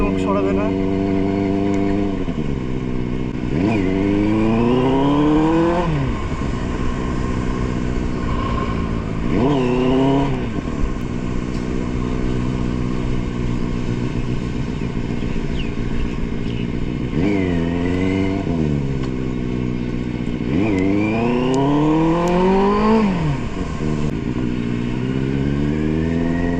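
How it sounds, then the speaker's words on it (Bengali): A Benelli superbike engine rides through a village, holding a loud steady drone that rises and falls through repeated revving gear changes, with people's voices mixed in. "আজকে সুপার বাইক চলছে ভাই গ্রামে,"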